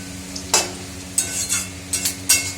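Leafy greens frying in a pan over a steady low hiss, with several sharp scraping stirs of a spatula against the metal at irregular intervals, close by.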